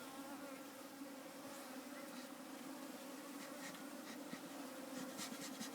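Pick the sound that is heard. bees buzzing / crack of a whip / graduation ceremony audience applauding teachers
bees buzzing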